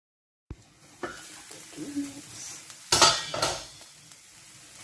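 Seasoned meat with salt and pepper is stirred in a pot, giving scattered scraping and clinking strokes over a faint sizzle, with two louder scrapes near the end and no talking.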